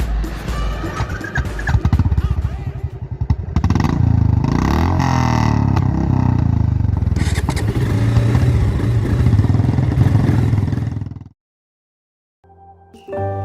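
A freshly repaired motorcycle engine runs loud and close for about eleven seconds, a rough clattering roar with rising revs, then cuts off abruptly before a brief burst of sound returns.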